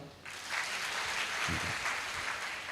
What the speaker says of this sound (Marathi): ओके, आता टाळ्या वाजवा.